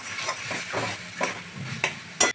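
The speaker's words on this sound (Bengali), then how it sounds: "আঁচটা কমিয়ে ভালো করে মশলা আর মটনের পিসগুলো কষে নিতে হবে" Mutton pieces and spices stir-fried over low heat, soft sizzling under a series of scraping stirs that come in uneven pulses, ending with a sharper clack of the spoon against the pan.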